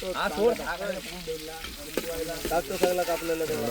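Chopped onion frying for chicken curry at an outdoor village cooking party: a loud, close sizzle and crackle, with stirring sounds and voices talking over it throughout.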